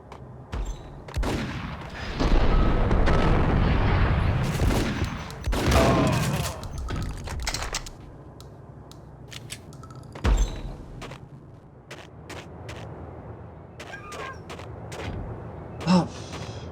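Ingram submachine gun fire in the game Max Payne: bursts of rapid automatic shots with loud impacts and clatter, the densest volleys early on, then sparser single bangs and clicks.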